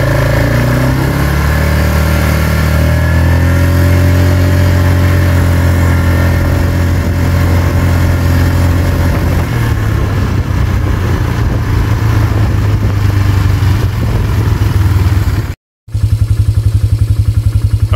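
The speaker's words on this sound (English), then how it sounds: "this first video is of me on the four-wheeler without the gimbal" Four-wheeler ATV engine droning steadily while driving along a row, loud and close, holding a constant pitch before the tone shifts lower partway through, with no talk.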